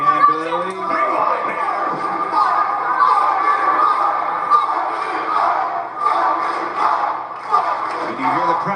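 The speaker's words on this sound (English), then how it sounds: "And you hear the crowd fight, Billie, fight" Wrestling arena crowd rallying behind a 20-year-old challenger, a dense sustained roar of many voices with rhythmic chanting swells, loud and continuous throughout.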